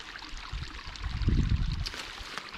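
Runoff water trickles and washes across a forest road, a soft continuous flow with a low swell in the middle, heard up close with no talk.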